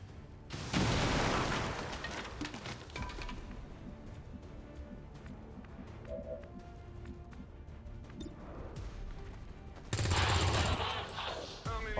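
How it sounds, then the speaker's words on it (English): Rocket launch in the XCOM 2 video game, Long War of the Chosen mod: a loud blast near the start and another heavy burst near the end, with crackling gunfire-like bursts and rumble in between. "Rockets away."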